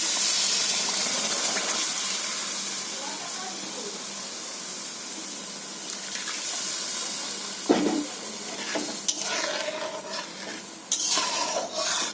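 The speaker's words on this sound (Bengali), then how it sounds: "বন্ধুরা দুধ দিয়ে দিচ্ছি" Milk goes into a hot pan while making a homemade sweet, with a steady steaming hiss and sizzle that gradually eases, broken by a few sharp clinks of a utensil against the pan near the end.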